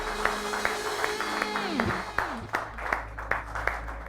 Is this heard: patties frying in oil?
no